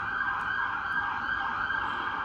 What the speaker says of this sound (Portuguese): Ambulância. A minha rua é ambulância, polícia o tempo todo.